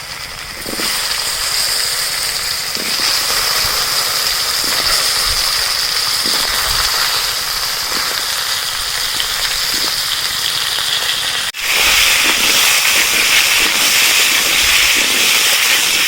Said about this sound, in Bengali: ওই তেলের মধ্যে আলু আর কচুটা ভেজে নেব